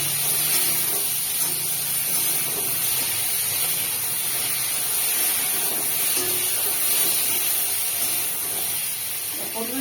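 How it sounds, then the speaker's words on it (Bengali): Pointed gourd (potol) frying in oil gives a steady, moderate hiss and gentle crackle, holding evenly throughout with no talk. "পটলটা ভাজা হয়ে গেছে"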